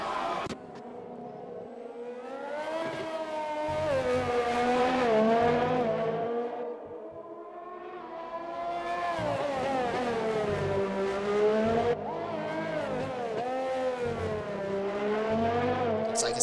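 Race cars on a flying lap in a racing video game, loud engine whine sweeping up and down through gear changes, with one car passing close and others trailing, continuous and dense throughout.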